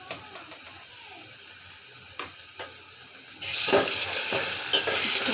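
Paste of ginger, garlic and cumin hits a hot pan and a loud sizzle suddenly flares up. A few scraping stirs come before it, and the frying keeps hissing steadily under spoon strokes.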